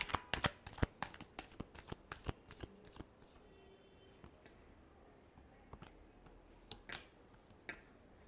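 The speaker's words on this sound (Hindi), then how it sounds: "Last shuffle." Tarot cards being shuffled by hand at close range: a run of sharp, rapid papery snaps and riffles that thins out into a few scattered taps and flicks, quiet and unaccompanied by speech.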